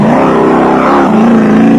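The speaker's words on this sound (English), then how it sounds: "Driving through the thick dust into the sun and slowing down the Penzor Land Rover of Cliff Barker and Heinrich Lautergan" Penzor Land Rover off-road race vehicle of the 1998 Sugarbelt Off Road Race in South Africa, slowing through thick dust, with a loud continuous engine drone that shifts pitch midway and stays steady throughout.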